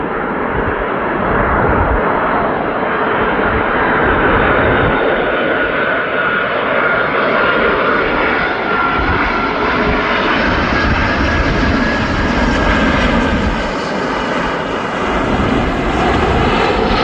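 A Boeing 747 Queen of the Skies at East Midlands Airport fills the air with a loud, steady roar of jet engines, holding broadband and constant for the whole stretch with a slowly shifting whine on top.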